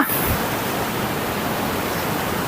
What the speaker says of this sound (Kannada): ಒಂಥರ ಈ ವಾಟರ್ ಫಾಲ್ಸ್ ಚೆನ್ನಾಗಿದೆ